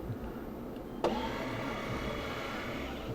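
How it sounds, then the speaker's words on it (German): Motorised power seat in the Audi Grand Sphere concept car sliding back, a steady electric whirr starting with a soft click and running on evenly in a quiet cabin, with no talking. "Einmal die Entertain-Position im Sitz. Das heißt, das Ganze fährt ein Stückchen zurück."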